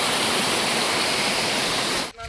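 A hidden waterfall at Insuli in the Konkan hills sends a steady, dense roar of rushing water, loud and unbroken for about two seconds before it cuts off abruptly.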